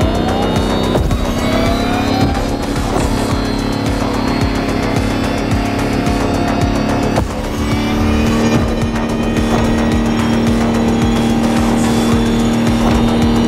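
An electric Lamborghini hyper concept car races in The Crew Motorfest, giving a loud, steady high-pitched electric whine with a sustained drone, a brief dip midway, then continuous power.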